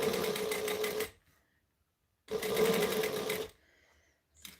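A sewing machine stitching vinyl piping along the raw edge of a bag, running in two steady, close bursts of about a second each with a quiet pause between them and no talking.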